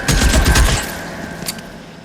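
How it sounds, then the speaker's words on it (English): Rapid burst of gunfire in L.A. Noire, a loud clustered volley in the first moments that fades into a quieter tail with one more faint shot near the end. "Oh, that's a gun."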